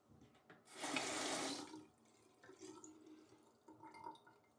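A water tap runs briefly into a sink in a quiet bathroom, a close, faint gush lasting about a second, followed by soft drips and splashes.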